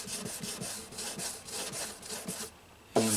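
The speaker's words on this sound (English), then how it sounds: "I'm gonna wet sand with naphtha" Rhythmic back-and-forth wet sanding of wood with naphtha on a sanding block along a crack, about a dozen quick strokes, close up, then a brief pause and a louder scrape.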